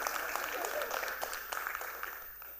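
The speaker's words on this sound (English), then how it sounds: "but you could clap for that." Scattered audience clapping at a youth town hall, a fairly faint, even patter of many hands that thins slightly toward the end, with no talk over it.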